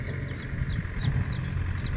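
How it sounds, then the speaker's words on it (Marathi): Birds chirp repeatedly around an old stone quarry treated as a biodiversity habitat: short, thin, high calls recurring every few tenths of a second over a steady low outdoor rumble, with no one speaking. "तुम्हाला आता अनेक पक्ष्यांचा आवाज येत असेल।"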